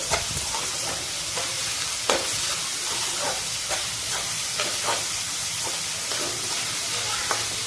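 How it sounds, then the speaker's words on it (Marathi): Onion sautéed over high heat in a pan for a traditional Maharashtrian whole masoor dish, a continuous loud sizzle punctuated by regular spatula scrapes and taps, no voices. "कांदा आपण चांगला परतून घेऊ"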